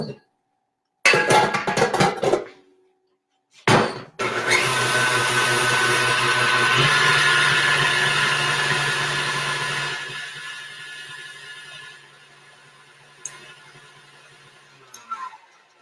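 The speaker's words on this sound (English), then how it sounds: "And I'll finish mixing up the egg whites there." Power drill fitted with a whisk attachment beats egg whites in a bowl, whirring loud and steady for several seconds before winding down, with short bursts of the drill at the start.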